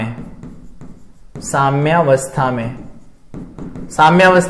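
Writing strokes scratch across a board during a physics lecture on electromagnetism, coming in short bursts between and beneath a person's steady lecturing voice.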